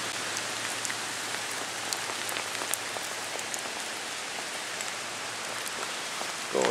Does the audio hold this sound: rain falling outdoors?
yes